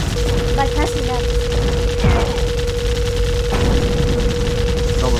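Rapid player gunfire in the co-op shooter Assault Heroes 2, a dense continuous fusillade over explosions, a steady electronic tone and game music, with voices talking over it.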